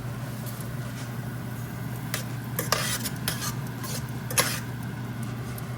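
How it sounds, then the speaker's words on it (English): Shrimp being flipped and cooked in a pan for a surf and turf dish: quiet utensil scrapes and rasps come in short bursts over a low, constant sizzle, with no talking. "I'm gonna go ahead and flip these shrimp over."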